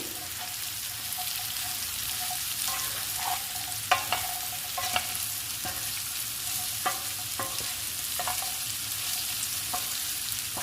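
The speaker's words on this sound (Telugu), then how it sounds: "ఇప్పుడు బీట్రూట్ని కూడా ఫ్రై చేసుకోవాలి." Beetroot frying in a pan for a home curry: a steady soft sizzle with scattered light clicks and scrapes of a spoon stirring, no talking.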